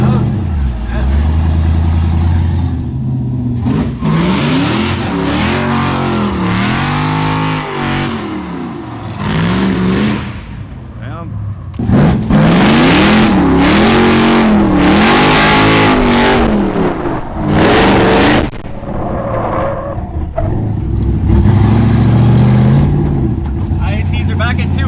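An LSA supercharged drift car running on E85 revs hard and loud, the engine climbing and falling in repeated surges at close range while people talk and shout over it.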